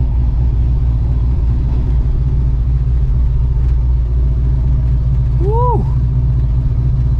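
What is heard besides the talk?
car driving up onto a trailer on wet ground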